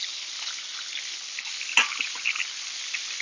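Bone-in chicken and butter sizzling in a pan, a faint steady hiss with a few soft crackles and pops partway through.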